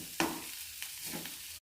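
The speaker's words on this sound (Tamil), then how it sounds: "நல்லா வதக்கணும். வெங்காயம் நல்லா வதங்கி செவந்து வந்துருச்சு." Onions sauté in a pan for chutney, a soft close sizzle with a few quick stirring scrapes, brief and quiet.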